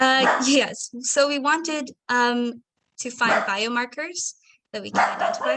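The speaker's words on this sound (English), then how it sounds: "Sorry, that's my dog." A dog barks in short, sharp yips in the gaps between a person's speech, fairly close and clearly audible around the talk.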